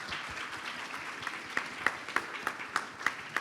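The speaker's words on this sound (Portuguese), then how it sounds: "Podem aplaudir, eu agradeço." Audience at a Rio book fair panel on fake news claps steadily, a dense wash of applause with a few sharper, closer claps standing out toward the end.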